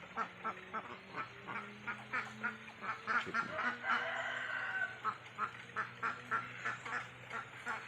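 Muscovy ducks quack in a rapid, repeated series of soft calls close by, with a few overlapping bird calls and no speech.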